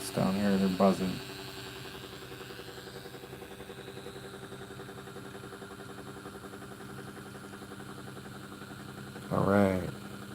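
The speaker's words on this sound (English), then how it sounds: "And then the piezo's, these little discs down here, they're buzzing." Small piezo discs on a pulse motor give off a faint, steady buzz over the motor's constant hum, with brief bursts of talk at the start and end.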